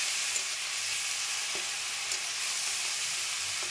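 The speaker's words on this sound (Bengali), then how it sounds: "এবার আমি পেঁয়াজ বাটাটা দিয়ে দেব তেলের মধ্যে। পেঁয়াজ বাটাটা খুব ভালো করে তেলের সঙ্গে কষে নিতে হবে।" Onion paste frying in hot oil for a parshe fish curry gives off a constant close hiss, with a few faint clicks of stirring and no talking.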